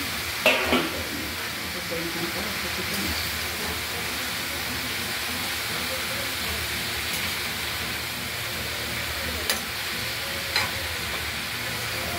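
Bottle gourd curry with lentil nuggets, coriander leaves and turmeric being stirred in a pan, a steady sizzle with scraping stirs and occasional clinks of the utensil, close by.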